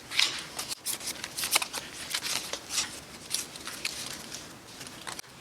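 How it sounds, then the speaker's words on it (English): Playing cards for the Burn the Fort board game being shuffled and dealt: a run of crisp, close riffling and flicking card sounds in irregular bursts, fairly quiet, with no voices. "each player draws or is dealt 5 draw cards, and they receive 3 fire tokens"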